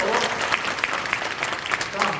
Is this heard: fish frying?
no